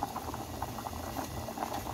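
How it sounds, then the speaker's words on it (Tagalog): Soy sauce braising liquid for beef or pork jangjorim bubbles at a boil in a pot, a soft, steady burble of popping bubbles, faint and continuous with no talk. "Ayan, kumukulo na siya."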